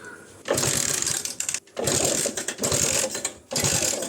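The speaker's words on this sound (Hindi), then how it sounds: "चलिए फाइनली हमारा गाड़ी जल्दी स्टार्ट हो गया" A motorbike low on petrol is started with repeated loud, close mechanical bursts of cranking and engine churn, separated by short pauses.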